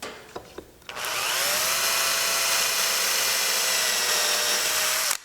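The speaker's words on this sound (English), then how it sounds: "So what we're going to do first is we're going to pre-drill here and here." A power drill pre-drills into a wooden subwoofer box, a couple of brief taps and then a steady, close, loud whine that runs for about four seconds before stopping abruptly.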